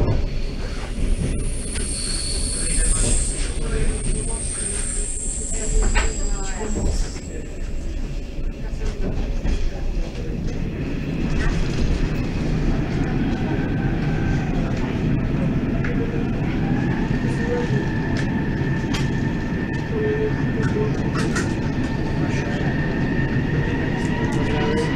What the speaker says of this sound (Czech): Osobní vlak číslo 9530. Proti byl osobní vlak číslo